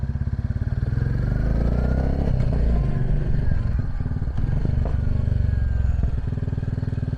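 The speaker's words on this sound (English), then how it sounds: "And now let's hear the exhaust open up a little bit." A Royal Enfield Bullet 350 motorcycle engine idles with a rapid throb, then revs up and holds a loud, rumbling exhaust note, close to the listener.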